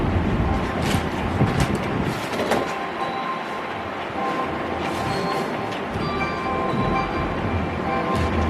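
A train sound effect played during a stage theatre production: a continuous, loud rolling rumble of rail wheels with faint clatter and squeal, steady throughout.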